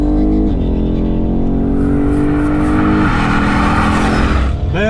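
A BMW engine revs hard during a car race, its steady whine climbing in pitch with two shifts, then a sudden drop and a fresh rising rev near the end, loud and close with no talk.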